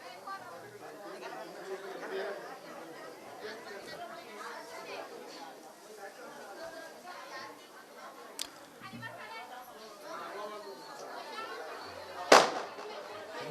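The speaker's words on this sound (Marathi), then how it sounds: "बस झाले म्हणा फटाके." Firecrackers crack during an outdoor religious gathering, a Bhagavat Katha, with scattered small pops and one sharp loud burst near the end over constant crowd chatter and talk.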